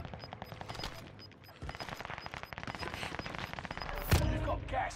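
Rapid P90 submachine gun fire in Call of Duty Vanguard Warzone on Rebirth Island, dense bursts of crackling shots running throughout with a sharper, louder blast near the end.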